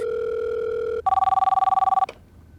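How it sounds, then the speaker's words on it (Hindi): A telephone rings loud and close in two bursts, a steady tone for about a second and then a rapid warbling trill that stops abruptly, with no talking over it. "सिर्फ अमर जी फोन उठाए प्लीज"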